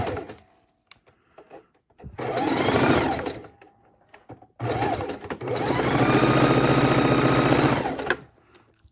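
Raw-edge appliqué under a sewing machine: two close bursts of stitching, a short run then a longer steady one, with quiet handling in the pauses between them.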